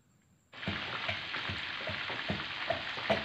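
Beef kebabs shallow-fry in oil in a pan, a sizzle that starts abruptly and then holds steady and close, with soft periodic bubbling pops and no voices.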